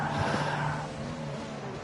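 Red Bull Formula 1 race car engine in a racing video game at the Netherlands circuit, a steady droning whine that rises briefly, then settles into a continuous loud hum with no voices.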